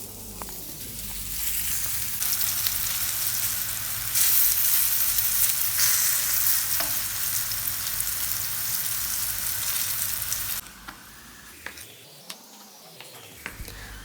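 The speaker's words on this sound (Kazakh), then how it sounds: "жаңағы баклажанымызды саламыз. Оны да жақсылап қуырамыз." Eggplant fries in hot oil with a loud, steady sizzle that goes on for a long stretch, then drops quieter near the end.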